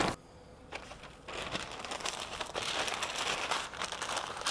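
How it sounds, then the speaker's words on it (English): Butcher paper crinkles and rustles continuously at close range as a smoked brisket is wrapped tightly by hand, with bursts of louder crumpling. "All right, so next we're gonna do our paper wrap."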